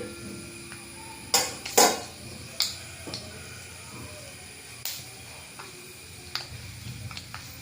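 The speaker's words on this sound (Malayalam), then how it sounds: "ഒന്ന് കടുകൊന്ന് പൊട്ടാൻ വേണ്ടിയിട്ട് നമുക്ക് ചട്ടവും ചെന്ന് ഇളക്കി കൊടുക്കാം" Mustard seeds spluttering in a hot pan as they are stirred, sparse sharp pops and crackles scattered over a soft background hiss, a few louder bursts early on.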